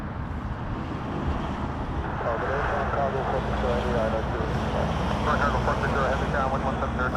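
A passenger airliner takes off at Toronto Pearson Airport, a steady loud engine roar with broadband wind-like rush that holds throughout, with faint voices in the background.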